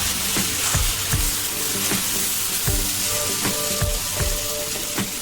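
Local chicken meat frying in a pan, crackling with a steady sizzle while a utensil knocks and scrapes against the pan in irregular strokes, close and continuous.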